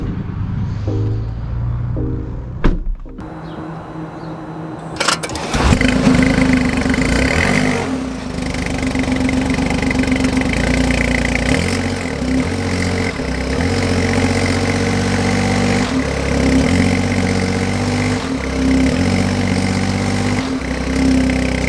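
A BMW i8 Roadster's engine starts up and runs steadily at close range, with shifting engine tones as the car pulls away, after a few quieter seconds of handling noises.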